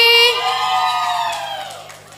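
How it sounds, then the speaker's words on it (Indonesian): An audience at a cooking contest for fried rice and cassava cakes cheers and whoops, with high shouting voices loudest at the start and fading over about two seconds. "Beri tepuk tangan sektor Melati."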